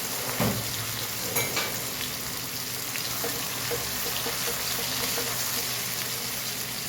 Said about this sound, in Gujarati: લાલ મરચું સૂકું, ઘી, ડુંગળી, ટામેટાં, લીમડો અને લીલું મરચું એડ કરીશું.